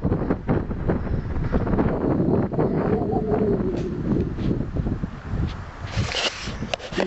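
Strong mountain wind buffets the microphone in a continuous loud rumble, with rustling and gusty noise throughout.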